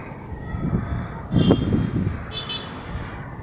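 A train rumbles past with a low rolling clatter that swells briefly in the middle, then settles back to a steady drone.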